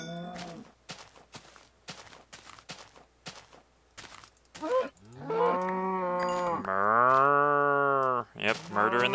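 Minecraft cows moo in long, loud, drawn-out calls near the end, after a run of quick clicking hits and footsteps. No one speaks.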